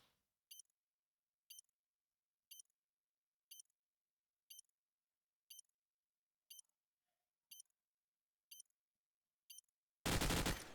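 Planted bomb in Call of Duty 4 ticking in sharp, regular beeps about once per second, ten in a row over near silence, then a sudden loud burst of noise at the end.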